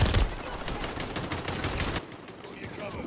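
Rapid, dense gunfire in Call of Duty Modern Warfare 3, a sustained burst of shots that cuts off abruptly, leaving quieter game ambience.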